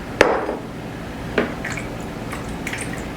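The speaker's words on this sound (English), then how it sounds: "I'm going to go ahead and drain this corn." Liquid from a can of corn splashes out as it is drained in a home kitchen: two distinct wet pours with a soft trickle and faint drips between them, close by and moderately loud.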